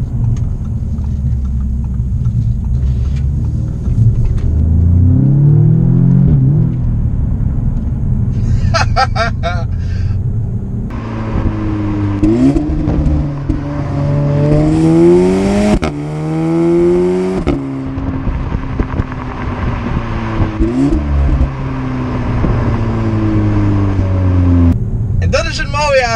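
A 2017 Audi S3 sedan engine in Dynamic mode revs and accelerates hard through several gear changes, loud and close from inside the car, with rising and falling engine pitch and talk over parts of it.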